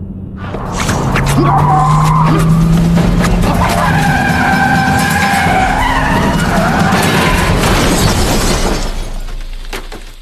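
A car in a film scene skids hard with a long tire squeal, then crashes with shattering glass and crunching metal, loud and close over about ten seconds.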